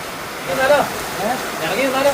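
Steady rain falls outside a tea shop, a continuous rushing hiss that holds through the whole clip, with a voice faintly audible beneath it.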